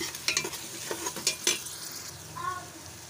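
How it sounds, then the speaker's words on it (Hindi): Spices frying in a pan for black chickpeas, a loud sizzle broken by several sharp scraping stirs of a spoon against the metal, then a softer hiss and a brief clink near the end. "अब मैं इसमें मसाले डाल दूंगी। इसको अच्छी तरह से फ्राई कर लेंगे।"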